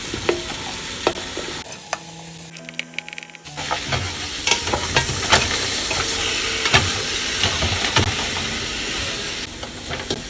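Onion going into a hot pan while lamb shanks cook, a brief pause then a steady loud sizzle with stirring clatters and scrapes continuing to the end.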